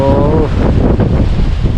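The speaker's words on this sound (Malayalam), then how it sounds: "ഭയങ്കരമായ കാറ്റാണ് ഗൈസ് കാറ്റ് എന്ന് പറഞ്ഞാൽ നമുക്ക് എന്താ പറയുക സഹിക്കാൻ പറ്റാത്ത അത്രയും കാറ്റാണ്" Strong wind buffets the microphone with a loud, rumbling roar, gusting heavily throughout.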